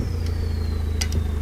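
A car engine in Assetto Corsa on PS4, driven the wrong way around the track, holds a steady buzzing drone with a slowly falling whine and a couple of brief clicks, with no talking over it.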